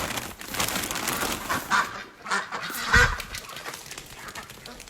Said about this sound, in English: So if the ducks come in here, I'll have to feed them some corn.